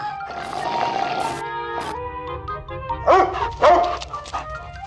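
Puppy in the Amanda The Adventurer 3 video game giving a few high yips and barks near the end, over soft background music.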